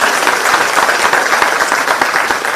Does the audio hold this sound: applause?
yes